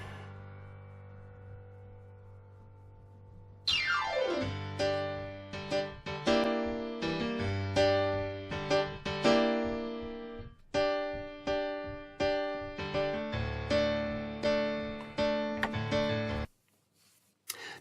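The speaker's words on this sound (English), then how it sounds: "Let's have a listen to the piano now on its own" Solo piano from a country song, captured with a left and right microphone pair, plays a short phrase of ringing chords and single notes after a quiet opening count, then fades out.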